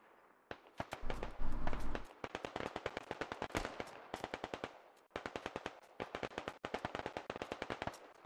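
Gunfire in the military shooter Squad rattles out in rapid automatic bursts, sharp close cracks in long rhythmic strings separated by brief pauses, with a heavier thump early on.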